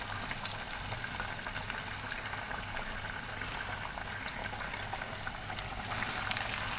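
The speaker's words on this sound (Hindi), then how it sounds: "यहाँ पे हम डाल देंगे हमारी चीज़ पॉकेट।" Chicken cheese pocket patties fry in hot oil in a pan, giving a steady, dense sizzle with crackling pops that continues throughout.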